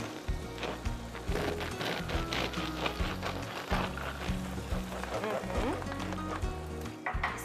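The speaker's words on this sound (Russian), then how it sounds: "мы будем нашу брускетту жарить на сливочном масле" Bruschetta bread frying in a little butter in a pan, a steady close crackling sizzle with soft stirring knocks and scrapes running throughout, no talk.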